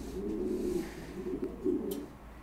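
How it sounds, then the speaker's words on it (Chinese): Two pigeons cooing nearby in a loft, soft low throaty coos repeating in a rolling rhythm, moderately close and fairly quiet, with no talk. "两个鸽子"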